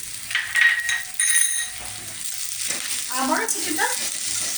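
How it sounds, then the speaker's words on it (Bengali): Softened onion and mashed boiled potato fry in a pan with a continuous close sizzle, some clinks of a utensil, and a voice speaking briefly over the cooking. "কিছুক্ষণ আমি এটা একটু ভেজে নেব। আলুটা একটু ভেজে আমাকে রান্না করে নিতে হবে।"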